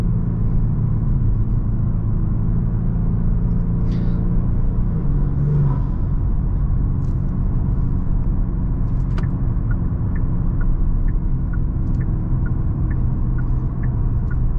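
A tuned 2023 Genesis G70 with 420 horsepower being driven, heard from inside as a steady, deep engine and road rumble that holds an even level the whole way, with a few faint ticks on top.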